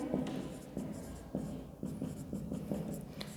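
Pen writing a balance sheet heading on paper in an accounting lesson: close, steady scratching strokes with short pauses between word segments, no talk over it.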